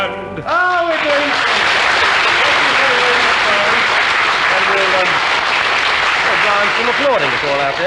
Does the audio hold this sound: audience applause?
yes